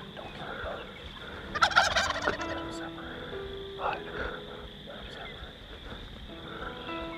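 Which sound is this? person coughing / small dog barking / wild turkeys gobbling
wild turkeys gobbling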